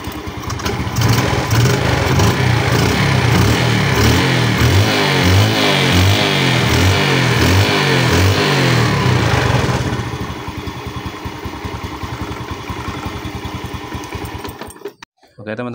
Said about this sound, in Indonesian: Gas kita agak gedein sedikit biar lebih nyaman.